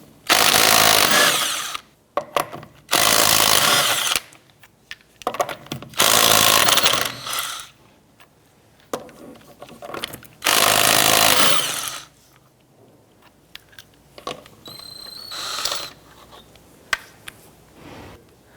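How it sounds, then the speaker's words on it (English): An impact tool with a 19mm socket removes wheel lug nuts on a 2006-2013 Chevrolet Impala, firing in loud bursts of rattling hammering of a second or two each, separated by pauses and fainter clicks and handling noises. "Using a 19mm socket, let's go ahead and remove our lug nuts."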